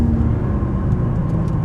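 Ferrari sports car driving in race mode, a steady low engine rumble and road roar filling the cabin without pause, loud and close throughout.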